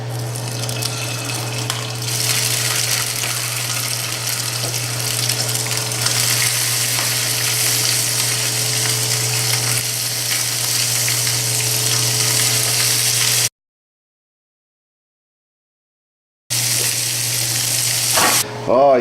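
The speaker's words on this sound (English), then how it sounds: "I've got a little saute pan with a touch of oil, and I'm going to be adding this" Lobster sautéing in a touch of oil in a small sauté pan, a loud, steady close sizzle with a constant low hum beneath, briefly dropping to silence before the frying resumes.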